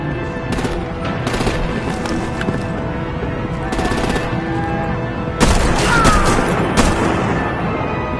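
Automatic gunfire and heavy weapon blasts from the Batman Telltale The Enemy Within video game, several loud bursts with a sharp crash near the middle, over a continuous battle din.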